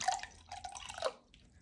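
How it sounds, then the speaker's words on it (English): Liquid being poured into a measuring cup for a states-of-matter demonstration, heard as a short, quiet trickle and drip lasting under two seconds before it fades out. "And now we're going to be pouring this into the cup."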